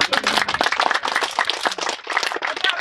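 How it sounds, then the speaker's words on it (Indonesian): Audience at a preschool groundbreaking ceremony claps in a short, uneven burst, individual hand claps distinct and close, loud and dense for a few seconds with no talk over it. "Ya, tepuk tangan dulu."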